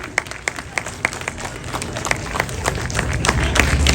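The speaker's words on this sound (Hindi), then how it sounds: "तालियां इतनी जोर से होगी," An audience at an outdoor political rally claps loudly, sharp uneven hand claps thickening into a rising wash of applause over a few seconds.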